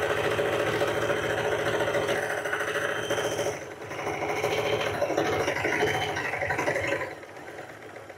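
A sewing machine stitches quilt blocks in a steady, fast mechanical whir, pausing briefly near the middle and again toward the end, close and fairly quiet with no talk.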